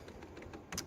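Keystrokes on a computer keyboard while a word is entered in Corel Draw for a Trotech laser engraver, a quick run of soft clicks closing with a brighter, louder tap, close and with no talking.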